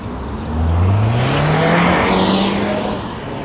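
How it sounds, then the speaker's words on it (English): A car passes on a street beside a walker, its engine rising and falling as it accelerates past, loud and close with road noise behind. "You got the cars making a lot of noise"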